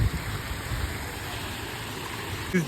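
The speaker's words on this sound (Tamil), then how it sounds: "இங்க ஒரு ஃபால்ஸ் குட்டி ஃபால்ஸ்." Steady rushing water from a small waterfall, a continuous broadband hiss with no voices, fairly even in level throughout.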